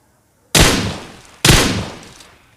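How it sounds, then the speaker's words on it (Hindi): Gunfire in the PUBG video game, two loud sharp shots about a second apart, each trailing off in a long echoing decay, heard alone without voices. "एक बंदे के फायर की आवाज़ आती है"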